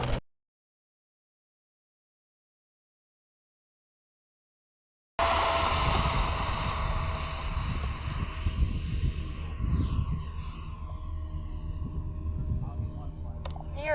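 A radio-controlled model airplane with AS3X+ stabilization drones overhead at a test flight field, a steady engine hum after a stretch of silence, with people talking nearby.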